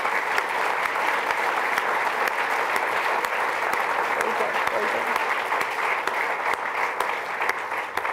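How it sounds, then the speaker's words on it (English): Sustained, dense applause from a large audience at a graduation salute for graduating students fills the whole stretch, steady and loud without letup. "let's give them one more round of applause."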